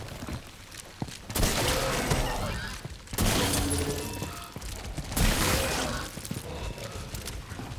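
Gunfire in the sci-fi survival horror game The Callisto Protocol comes in three loud bursts of shots and crashing impacts, separated by quieter stretches of background noise.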